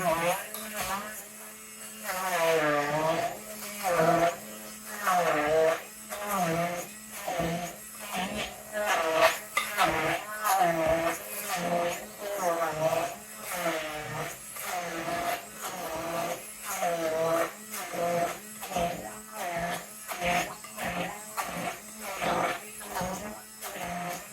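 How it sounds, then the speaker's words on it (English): A handheld immersion blender whirs in pulsing bursts while making shepherd's pie, its motor pitch rising and falling steadily for a long stretch, fairly close and loud. "I'm going to use an emulsion blender."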